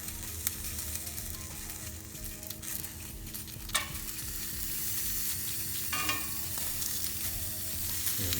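Onion and jalapeño roasting in a hot pan for salsa verde, a constant crackling sizzle with occasional pops and a couple of clearer utensil knocks, heard close up and without talk.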